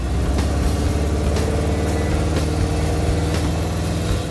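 A 1968 Dodge Charger rat rod engine while driving, a loud close mechanical drone with steady rhythmic pulsing and faint periodic clicks, running continuously without talk.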